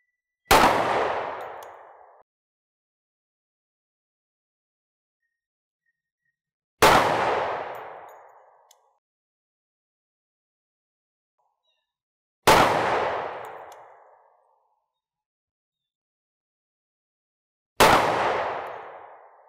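Four loud 10mm Auto pistol shots fired into ballistic gel at a range, evenly spaced about five to six seconds apart, each a sharp crack with a decaying tail and silence between.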